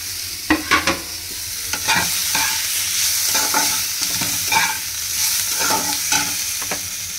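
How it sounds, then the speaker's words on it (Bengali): Tomato, onion, mustard, poppy seed and chilli frying together in a pan for a spice paste, loud close sizzling with repeated rhythmic spatula strokes and scrapes, no speech. "টমেটো, পেঁয়াজ, এখানে সর্ষে, পোস্ত, আমরিচ সব দিয়ে এটাকে ভেজে নেবো, নিয়ে এটাকে একটা পেস্ট করবো।"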